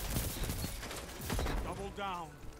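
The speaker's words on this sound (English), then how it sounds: "I'm just kind of like shooting at this point. Even if I'm not hitting anybody, I'm just shooting." Rapid gunfire from the Horror's Least weapon in a Destiny 2 PvP match, a dense run of sharp shots and impacts with game effects, and a voice talking alongside.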